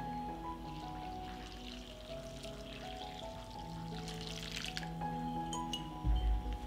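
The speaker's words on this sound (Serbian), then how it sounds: "i dodat ću 500 ml tople vode." Warm water poured into a bread dough mix with psyllium, baking powder and salt, a soft continuous trickle and splash in a kitchen, with a brief heavier thump near the end.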